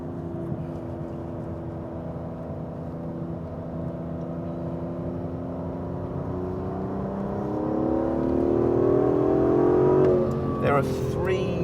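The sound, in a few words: Aston Martin DB11 turbo car driving laps on track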